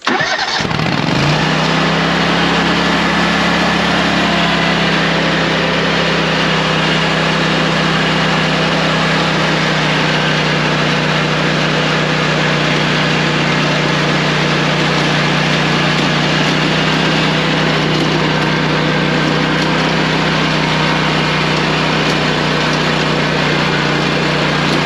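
Lawn mower engine running steadily and loudly close by while cutting an overgrown field, a continuous droning hum with no pauses and no talking.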